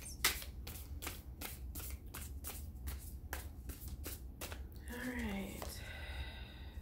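Tarot cards being shuffled by hand, a run of crisp, evenly spaced riffles and snaps close to the listener, followed by a short voice near the end.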